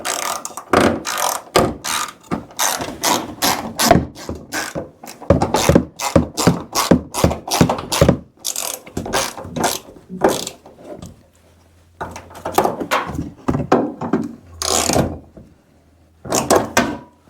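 A ratchet wrench tightens the seat bolts in a turbo Chevy Tracker / Suzuki Samurai project, making rapid, close, loud clicking runs in quick bursts separated by brief pauses.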